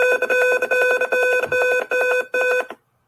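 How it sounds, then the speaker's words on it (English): Home security alarm on a movement-sensor setup with servo-driven locks, set off by motion: loud, repeated electronic beeping in rapid bursts with short gaps, then it cuts off abruptly. "if it detects any movement, the alarm would sound"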